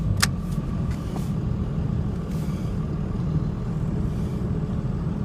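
Heavy roadside traffic rumble near a crane hauling a semi truck that slid sideways into a ditch in Wilsonville, with a steady low engine drone, a sharp hiss or two early on, and continuous road noise.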